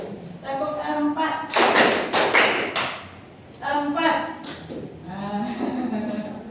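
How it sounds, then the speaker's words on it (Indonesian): A class of children claps in unison during a lesson, a few short sharp bursts of clapping in the middle, with an adult teacher talking before and after. "Tepuk empat."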